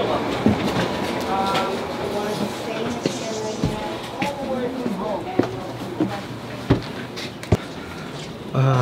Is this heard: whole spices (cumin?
no